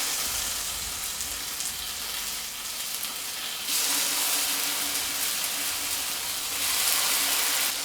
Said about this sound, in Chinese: 饼铛中放入少许的油，放入腌制好的鸡肉条，